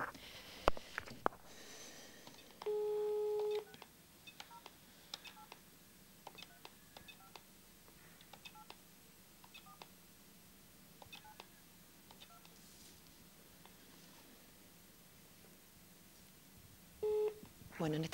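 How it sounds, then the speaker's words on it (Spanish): A telephone number is keyed for a raffle call, a quick run of short dial-tone beeps near the start and a few more at the end, with hushed sniffs and faint clicks between. "procedemos a esa llamada"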